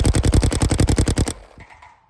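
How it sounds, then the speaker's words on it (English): A G6R paintball marker fitted with a Salty Engineering bolt and poppet fires a rapid burst of about fifteen sharp, evenly spaced shots, loud and close, then stops abruptly into quiet. "if you've shot a G6r, you know what this sounds like. Let's do one more"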